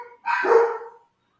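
A single dog bark, close and loud, a short sharp yelp that trails off into quiet.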